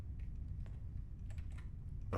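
Rapid clicking and tapping on a computer mouse and keyboard while playing a horror video game, a dense irregular patter at close range over a low hum of game audio, with no talk.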